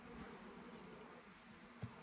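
Honeybees buzzing at a hive during a spring inspection, a steady dense hum with a few individual bees passing close and one brief knock near the end.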